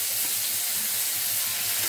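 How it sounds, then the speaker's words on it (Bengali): Katla fish pieces rubbed with salt and turmeric frying in a very hot pan, giving a steady soft sizzle that runs evenly through the short stretch with no voices. "মাছটাকে আমি ভালো করে ভেজে নেবো।"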